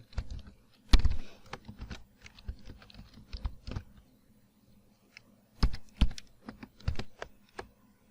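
Keys clatter on a computer keyboard as a folder name is typed in Windows, with quick irregular bursts of clicks and short pauses between them, close and clear, with no voice present.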